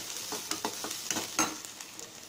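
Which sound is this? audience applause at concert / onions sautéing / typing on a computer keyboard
onions sautéing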